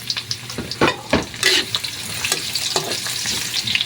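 Garlic, onion and ginger hit hot cooking oil in a pan, sizzling and crackling up close with stirring scrapes and bursts of spatter, the frying hiss rising and falling unevenly under no talk.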